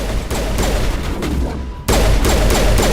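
Rapid gunfire during combat in the Mass Effect video game, a dense fusillade of sharp shots with heavy low thumps, briefly thinning before a louder burst resumes near the end.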